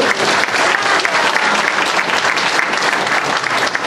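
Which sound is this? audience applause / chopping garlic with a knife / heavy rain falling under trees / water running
audience applause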